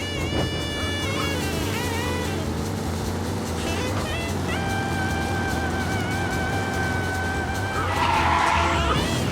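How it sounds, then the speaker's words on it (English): In Mafia: Definitive Edition, a race car engine revs and whines at high speed through the city with tire squeals and shifting pitch, loud and continuous, with a police radio voice speaking over it. "Officers reporting a race car driving at speed through the city."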